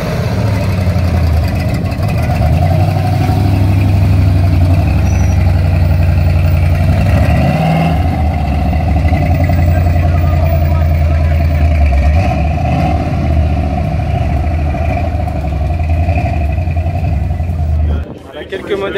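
A Ford Mustang GT350 at a Mustang Day gathering on a racing circuit gives a loud, close, continuous engine rumble with swells of revving, while someone talks over it.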